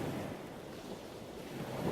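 Ocean waves wash onto a beach in a steady, continuous roar of surf, with a soft rush of wind mixed in and no voices.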